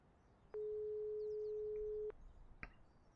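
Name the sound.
smartphone call ringing in video game Broken Sword 5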